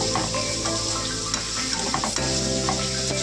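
Masala with turmeric is stirred and sizzles in hot oil for a Malvani mackerel curry, a loud steady frying hiss with spoon scrapes against the pan, close up and without speech.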